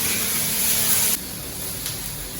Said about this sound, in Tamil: இந்த பக்கம் கல் காஞ்சிச்சான்னு பார்த்துட்டு நம்ம தோசையை ஊற்றிடலாம்.